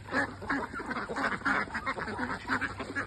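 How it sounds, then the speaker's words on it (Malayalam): Ducks on a farm quacking in quick repeated bursts, several birds calling at a moderate distance, steady and fairly faint throughout. "ഒരുപാട് താറാവും കോഴിയൊക്കെ ഉണ്ട് കേട്ടോ."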